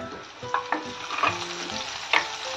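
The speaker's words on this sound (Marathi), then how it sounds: "तर आता ह्यामध्ये टोमॅटो टाकून घेऊया" Chopped tomatoes hit lightly browned onions in a hot pan for a wheat-flour ukal pendi, sizzling and frying steadily while a spoon stirs with several scraping knocks, close and clear with no talking.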